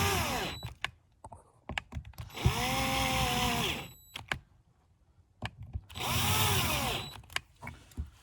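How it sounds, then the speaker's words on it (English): Small low-torque electric screw gun driving carburetor screws on a Yamaha XT 225, whirring in two close bursts of about a second each, with sharp clicks and handling taps between them. "this is where it's handy to have a small screw gun, in my opinion, that does not have a lot of torque on it"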